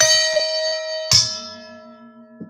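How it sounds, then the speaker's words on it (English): A small gong is struck once at a toy train display, giving a loud metallic crash that rings on with sustained tones, preceded by softer taps and faint clinks. "We are going to hit the gong."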